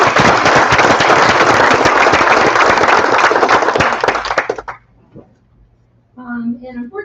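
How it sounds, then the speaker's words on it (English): A crowd at a town board meeting applauds loudly and steadily for a few seconds, then the clapping stops abruptly and a person begins speaking. "I think we should give them another round of applause"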